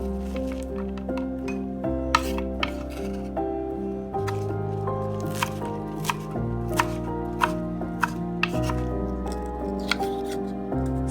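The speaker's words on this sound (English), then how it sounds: "Just cut them in small pieces, about ½ an inch or less." A knife chops mustard and turnip green stems into small pieces on a board, with sharp, regular cuts ringing out over soft background music.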